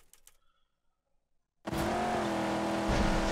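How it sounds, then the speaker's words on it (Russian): Convoy vehicles in the Mad Max video game: after a near-silent stretch, a loud, close engine roar bursts in and holds steady, a dense, continuous vehicle drone with no speech. "Так, это там конвой едет?"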